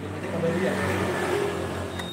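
A motorcycle engine with a standard stock exhaust runs close by, holding a steady, droning rev with a buzzy tone that stays level for the whole stretch.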